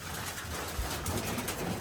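A pigeon coos softly near a feeding spot, a faint low murmur under steady outdoor background noise.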